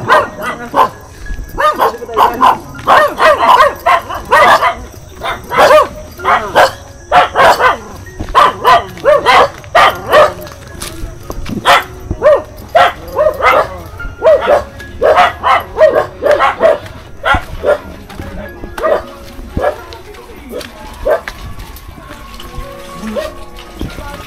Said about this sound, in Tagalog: Ay, dami aso.